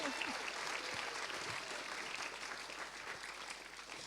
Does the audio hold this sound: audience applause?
yes